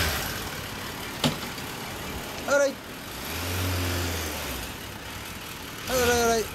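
A 2010 Suzuki Bandit 1250S ABS motorcycle engine gives a low, steady idling rumble that swells briefly in the middle, with a few metallic clunks and handling noises around it and someone speaking briefly.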